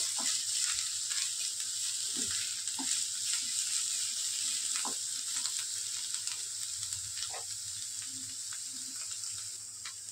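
Onion sizzles steadily in a hot pan for a Chinese pomfret fish curry, with tamarind already added, a constant bright frying hiss with occasional soft stirring scrapes and taps, close up and without talk.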